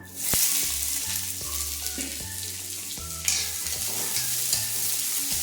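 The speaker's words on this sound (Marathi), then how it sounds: "आता याच्यामध्ये टाकू आपण कांदा।" Onion hits hot oil with cinnamon and peppercorns in a pan for sweet corn bhaji, a strong steady sizzle with stirring scrapes close by, soft background music underneath.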